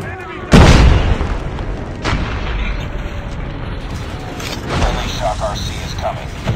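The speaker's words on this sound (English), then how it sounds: "Friendly airstrike incoming." A video game airstrike lands with a heavy booming blast near the start, followed by rumbling, crackling aftershocks and mechanical clatter, with a voice speaking over the noise.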